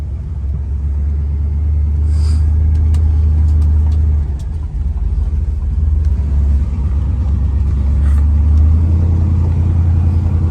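A 1969 Pontiac GTO with a big V8 rumbles deep and steady as it is shifted into gear and pulls away, the low engine note rising slightly with faint mechanical clicks, no voices.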